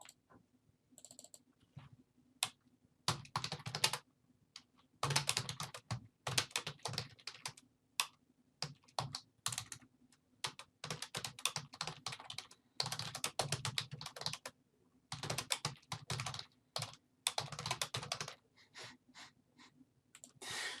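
Bursts of keyboard typing with clacking keys and short pauses between runs, close and clear, with light breathing in the gaps and no talking.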